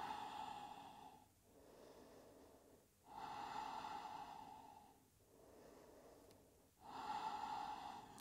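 Slow, deep nasal breaths during vinyasa yoga come close and clearly, about four long inhale–exhale cycles with a steady rhythm and soft pauses between them, alone without talking.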